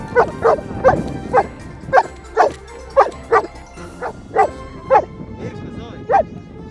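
A dog barks repeatedly at an outdoor film shoot location, a steady series of about a dozen sharp, evenly spaced barks, close and loud over faint background noise.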